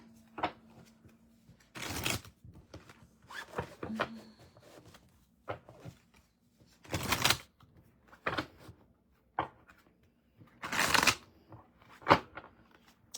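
Tarot cards being shuffled by hand in a quiet room, coming in several separate loud riffling bursts with soft handling noises and pauses between them.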